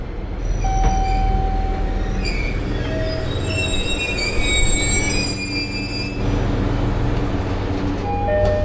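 A train pulls into a station in Hiroshima, Japan, with its wheels squealing in long high tones over a loud, steady rumble of rolling cars that swells briefly near the end.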